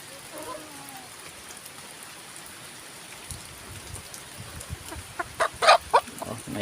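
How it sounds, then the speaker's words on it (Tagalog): Steady patter of rain with chickens clucking on a pig farm, the clucks growing louder and closer toward the end. "lumalapit na manok kala nila ah, may makain sila rito"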